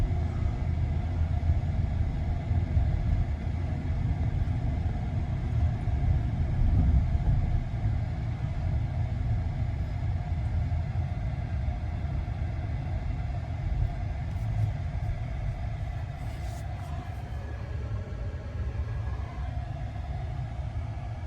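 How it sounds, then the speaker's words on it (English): A long freight train rolls past a railroad crossing in the desert between Arizona and Texas, heard from a waiting car as a continuous low rumble and drone that holds steady throughout. "Looks like we're going to have to wait for this train. And it's a long one"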